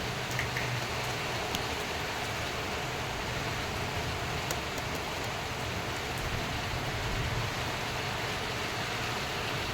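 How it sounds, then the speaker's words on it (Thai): Heavy rain pours steadily over a rural village, a dense, even hiss without pause for the whole stretch, with no voices over it. "ฝนก็เริ่มตกแรงนะครับ"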